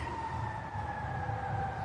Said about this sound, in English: You hear the ambulance in the background